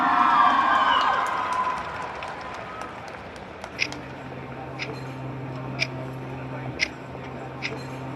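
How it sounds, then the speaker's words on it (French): An audience at a cosplay contest cheers and applauds an Attack on Titan cosplayer. A loud burst of crowd noise opens, then fades within a couple of seconds, leaving a low hum and a few scattered clicks. "On l'applaudit!"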